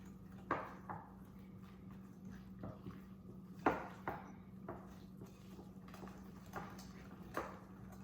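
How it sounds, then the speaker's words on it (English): A spoon taps and scrapes in a bowl as muffin batter is mixed. Soft, irregular knocks sound at a moderate distance over a steady low hum. "you're going to want to mix it until all the clumps are out of the batter"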